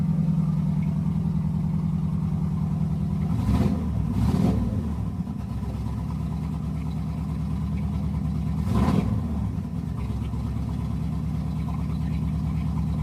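A Small Block Chevy 350 V8 runs steadily after a cold start, its deep rumbling idle loud and close, with a few brief revs swelling over the steady drone and no voices.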